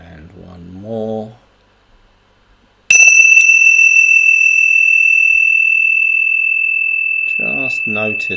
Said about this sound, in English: what I'll do is I'll sound the bell